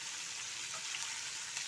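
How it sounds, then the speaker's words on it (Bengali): Ginger frying in a pan alongside radish and winter vegetables for a cauliflower curry gives a steady, close, even sizzle with faint bubbling crackles, no voices. "আদাটা একটু ভাজা ভাজা হোক"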